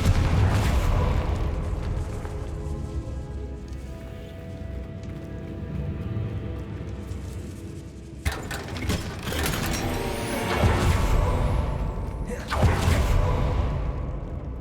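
Fiery spell blasts and explosions in Hogwarts Legacy rumble loudly, with sharp cracks near eight and twelve seconds over continuous mechanical clatter and game noise.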